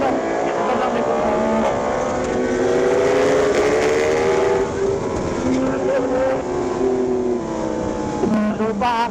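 A Yamaha MT-10 motorcycle engine riding steadily, its loud continuous drone rising and falling in pitch as the revs shift, with a voice talking over it.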